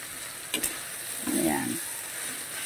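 Pre-cooked pork sautéing in a pan for menudo, a quiet steady sizzle with a couple of sharp utensil clinks and a brief scraping stir, heard close.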